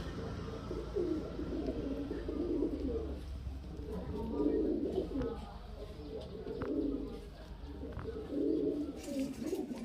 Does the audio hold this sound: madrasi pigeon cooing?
yes